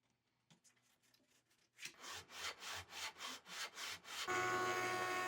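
Rhythmic back-and-forth sanding of a wooden stool on a large abrasive sheet, about eight steady strokes, close and fairly loud, ending in a continuous gritty hiss.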